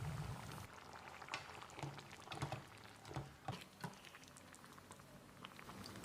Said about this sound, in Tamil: இது நல்லா கொதித்து வந்துடுச்சு.